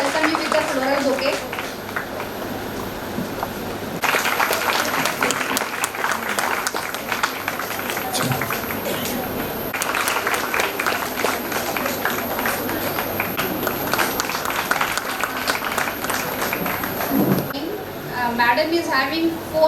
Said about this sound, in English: Please welcome to the round of applause.